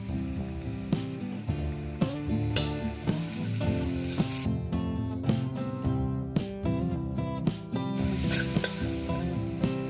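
Garlic and then onion leeks sizzle loudly in hot oil in a pan as they are sautéed for noodle soup, with a continuous crackling fry and occasional stirring scrapes close up.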